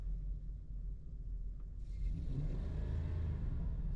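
A 2005 Ford E350 van engine, which has a stalling and smoke fault, idles with a low steady rumble, then revs up partway through, building into a louder, busier roar that holds to the end.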